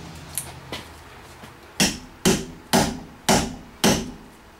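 A hammer smacks at the remains of a sway bar bushing on a 2000 Chevy Camaro, first two lighter taps, then five sharp, loud metallic blows at a steady, roughly half-second rhythm.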